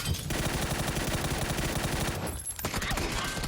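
Rapid automatic gunfire rattles continuously in PUBG: Battlegrounds, dense overlapping shots with a brief lull before the firing resumes.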